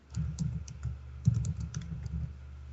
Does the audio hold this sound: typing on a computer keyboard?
yes